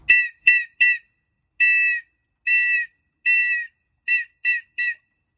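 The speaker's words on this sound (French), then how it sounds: "Ça c'est la signalisation SOS sonore." Sharp blasts on a safety whistle in an SOS pattern: three short, three long, three short, loud and close with clean gaps between them.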